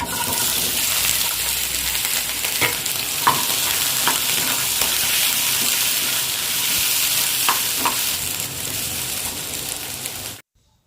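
Steady, loud sizzling of onions, tomatoes, garlic, green chilies and ginger frying in a pan, with occasional scrapes and stirring taps, continuing evenly before cutting off abruptly.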